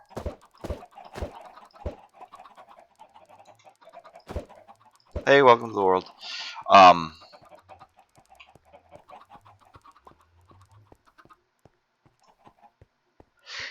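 A chicken in the Minecraft video game gives two short bursts of clucking in quiet surroundings, with several sharp clicks beforehand and someone speaking briefly at the start.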